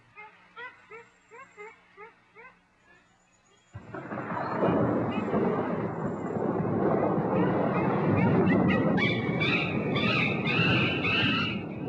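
A thunderstorm rolls over a forest, bursting in as a loud, continuous roar of heavy rain and rumbling thunder after a young chimpanzee's rhythmic distressed cries fade out. High calls rise over the storm later.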